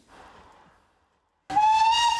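Steam train whistle: after a faint murmur and a second of silence, a loud, sustained harmonic shriek starts abruptly and holds steady to the end, close and alone.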